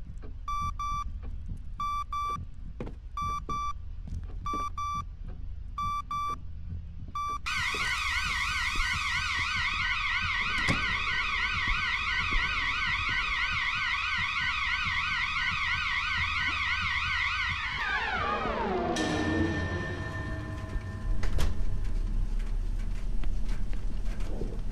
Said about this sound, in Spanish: algo hizo callar la alarma